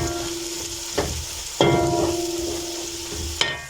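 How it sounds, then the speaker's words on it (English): Garlic sizzles steadily in a hot pan for a potato dish, a continuous close frying hiss with a few louder bursts as it is stirred. "So as we wait for the garlic to cook for around a minute"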